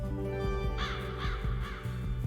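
Three cawing crow calls from The Last Friendship video game, a happy sound in the game, rise clearly above a steady layer of background game music.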